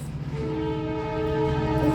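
A train sounds its horn in a sustained, loud, steady blare that holds for the full two seconds over low rumbling.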